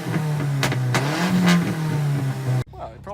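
A track car with its old exhaust revs hard from a recording, a close, loud engine rising and falling through several sharp blips before cutting off abruptly, followed by a short quiet tail.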